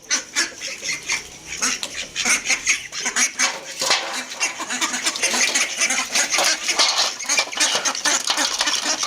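Many ducks quacking and chattering together in a busy, continuous flock, fairly close and loud, with dense overlapping calls throughout.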